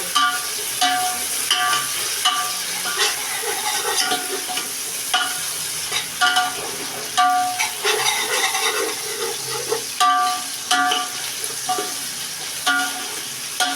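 Curry leaves fry in hot oil in an Andhra home kitchen while being stirred, a steady loud sizzle broken by repeated scraping strokes of a spoon against the pan, with no talking.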